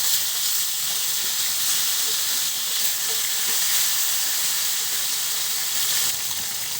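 Tilapia frying in hot cooking oil, a loud, steady broadband sizzle and hiss that holds evenly from start to finish, close up, with a faint knock or two beneath it.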